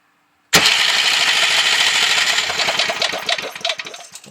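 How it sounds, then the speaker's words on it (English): Electric starter cranking a 5HP electric-start Briggs & Stratton small engine on a workbench, a loud sudden burst of whirring and rattling that runs steadily, then turns choppier with rhythmic pulses toward the end. "So here I'll just plug the 115-20 volt starter in there, and hopefully it doesn't dance off the workbench"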